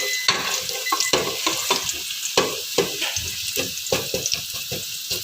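A large chopped onion and crushed garlic frying in a pan over a low flame, with constant sizzling broken by repeated spoon stirs and scrapes, close and clear.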